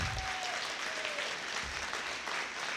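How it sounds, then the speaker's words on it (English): An audience at a police academy graduation ceremony breaks into steady, sustained applause, dense clapping filling the hall evenly from start to finish with no break. "Let's give him a round of applause, too."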